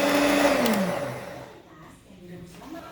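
An electric hand mixer whirs as it beats thick pandan steamed-cake batter, a steady motor drone for the first second and a half that then winds down and fades as the mixer is switched off.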